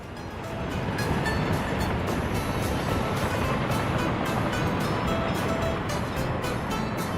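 A train running in Workers and Resources: Soviet Republic, the Soviet-era city-building game, makes a steady, dense rumble that holds at an even loudness throughout, with no pauses and no talk over it.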